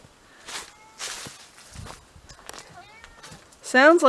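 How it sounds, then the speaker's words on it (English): A cat meows a few times, the last cry loud and close, between soft rustling footsteps. "Are you going to be meowing like that the whole time I'm out here trying to work?"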